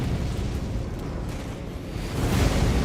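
A cannon blast in the video game Elden Ring: Shadow of the Erdtree, a sustained loud rumbling explosion with dense low-end roar that swells further toward the end, with no talk over it.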